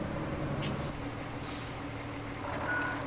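A truck pulls in within the RoadCraft game amid steady engine rumble, with a brief air-brake hiss and a thin reversing beep near the end, no talk.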